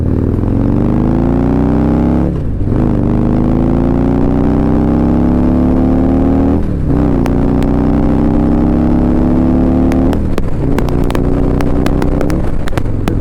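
A 2018 Harley-Davidson Street Glide motorcycle accelerating hard, its loud close engine rising in pitch through each gear with brief dips at the shifts, alone with no talk.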